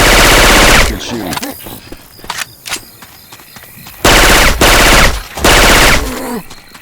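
Syphon Filter weapon sounds modded into the co-op shooter game Left 4 Dead 2 blast loudly in long automatic machine-gun bursts, broken by single sharp shots and short pauses, with game voices calling out between bursts.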